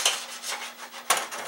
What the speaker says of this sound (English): these strips actually just slide right up